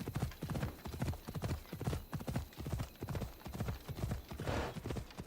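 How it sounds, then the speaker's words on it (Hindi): Horse hooves clip-clop in a fast, steady rhythm in Assassin's Creed Odyssey, a mount galloping with repeated close thuds, a brief whinny-like bright burst near the end, no talk over it. "ये देख भाई मेरा घोड़ा ट्रेल लगा रखे भाई, एकदम खतरनाक।"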